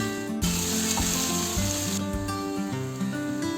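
Pepper beef roast masala frying in a pan gives a continuous close sizzle with shifting hiss and occasional stirring scrapes, with no voices.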